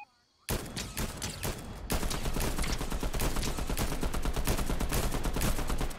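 Nonstop automatic gunfire in a Fortnite match, a loud, dense fusillade of rapid shots after a short quiet start, running steadily close up with no break.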